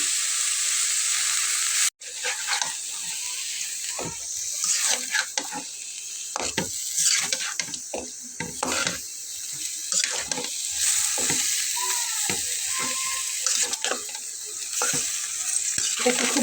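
Continuous sizzling of bitter gourd frying in a wok, broken by frequent scraping and clattering stirs of a utensil, with no talking.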